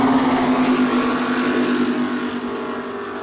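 Supercat racing powerboat at Lake Macquarie roaring past close to shore during a race, a loud steady engine drone with a slowly falling pitch as it passes by, heard alone without talk.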